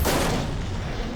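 A machine enemy in Horizon Forbidden West blind fires its cannons, a loud, booming blast that opens the moment and then rumbles away in a heavy wash of noise.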